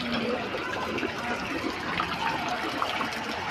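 Floodwater pours continuously, a steady broadband rush and trickle heard close by without pause.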